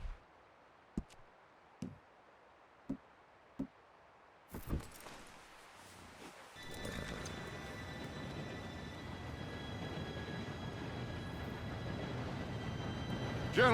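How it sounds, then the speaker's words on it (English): A train arrives in the video game Red Dead Redemption 2, a few sharp clicks and thuds first, then a rising rumble with metallic squealing as it rolls in and grows louder. "Train should be here any minute now."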